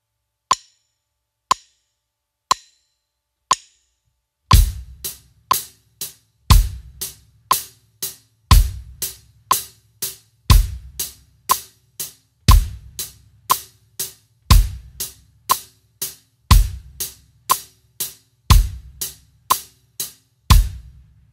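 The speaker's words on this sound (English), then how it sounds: "all you need to do on those counts is just hit the bass drum right in time with the hi-hat" A drum kit played alone: four single hi-hat ticks, then a steady hi-hat pattern with the bass drum landing on counts 1 and 3, an even, moderately loud groove.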